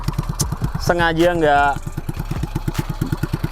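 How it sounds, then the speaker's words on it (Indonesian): An old Dutch-era motorcycle, its exhaust still leaking at the front, idles with a steady, loud putter of evenly spaced pulses, close by, while someone briefly talks over it. "Ini aja knalpot kayaknya masih bocor tuh di bagian depan"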